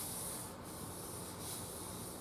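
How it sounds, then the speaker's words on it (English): Steady, continuous abrasive rubbing, like sandpaper worked back and forth over the wooden body of a Gazzbass Ignition replica guitar, close by and unbroken, with no voices. "So we've got a lot of sanding to do."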